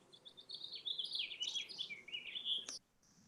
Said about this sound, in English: we can hear birds chirping.